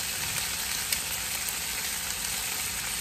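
Meat frying in a hot pan after being flipped, with a steady, dense hiss of sizzling and faint crackles.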